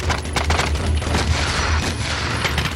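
Dense, violent exchange of rifle fire between police snipers and terrorists at night during the Munich Olympic hostage crisis, rapid overlapping shots crackling continuously over a rumbling background.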